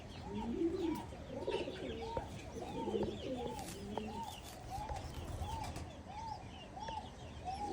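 Pigeons in a loft coo in repeated rising-and-falling phrases, several birds calling and overlapping close by. Faint chirps and a brief flutter of wings sit in the background.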